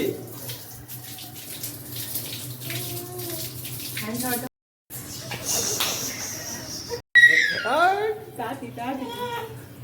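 A baby being bathed: running tap water and splashing go on throughout, while people speak over the water and a brief gap interrupts it midway.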